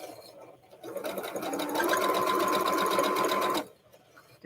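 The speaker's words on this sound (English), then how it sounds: "And then when I get them up on the sewing machine," A sewing machine stitches pieces of a shamrock quilt block, starting up, whirring at a steady fast rhythm for about two seconds, then stopping abruptly; close and clear with no talking.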